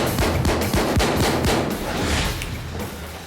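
Rapid bursts of gunfire crack through a dramatized shootout, shots clustered in quick succession over a dense, loud backdrop with no voices.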